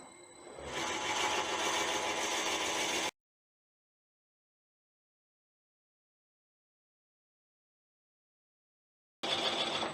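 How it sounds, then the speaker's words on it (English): A drill bores out the centre of an Irish bog oak chalice held on a wood lathe, running at 400: a steady, loud mechanical whir for about three seconds, then silence, then the whir returning briefly at the end. "I'm going to drill the middle out."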